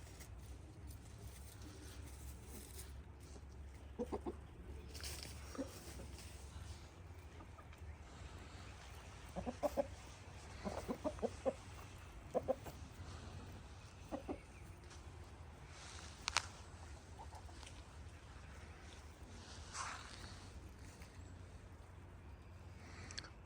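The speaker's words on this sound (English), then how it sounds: "Looks like I got 2 hens that didn't make it to the front yard." Backyard hens cluck sparsely and softly in the distance, with a few short clucks standing out over a steady low outdoor rumble.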